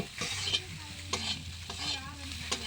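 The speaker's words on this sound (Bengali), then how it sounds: "এবার একটু হলুদ দিয়ে দেব। দিয়ে ভালো করে নাড়াচাড়া করে" Food frying in a pan gets turmeric stirred through it, with a soft continuous sizzle broken by a few distinct scraping strokes of a spoon, close and quiet, with no voices.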